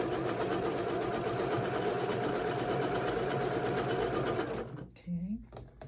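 A sewing machine stitches quilt block pieces in a fast, even, continuous run close by, then stops abruptly, followed by a short spoken word.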